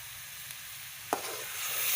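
Carrot halwa, its milk fully cooked down, is roasted in a pan with a soft steady sizzle and one sharp stirring scrape, the frying hiss swelling slightly afterwards; quiet and close with no talking.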